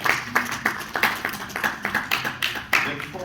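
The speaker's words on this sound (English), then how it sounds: "please clap hands for yourselves" Audience at a men's mental health convention clapping in a brisk, rhythmic pattern of distinct claps, close and fairly loud, with a few scattered voices underneath.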